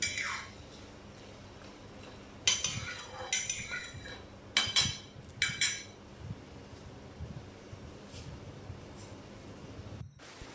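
Mutton curry being stirred in a pot with ginger water, a spoon scraping and clinking against the metal in scattered quick bursts over quiet kitchen background.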